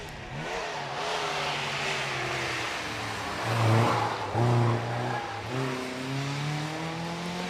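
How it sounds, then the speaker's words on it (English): Toyota MR2 1800cc car accelerating hard up the Prescott hill climb, its engine note rising through the gears with brief surges and shift dips, loud and close throughout. "Up to the line comes 153 Zoe Shearman in the Toyota MR2 1800cc car."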